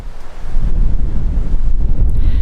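Strong wind gusting across an exposed hilltop at a steady 30 knots, roaring and buffeting the microphone in a continuous loud rumble with no talk.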